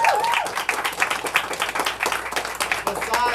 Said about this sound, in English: let's clap it up for Sister